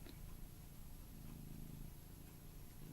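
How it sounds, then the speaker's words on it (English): A soft, steady cat purr rumbles low and continuous, close by, with faint background hiss and no talking. "sometimes the purring gets picked up on the microphone"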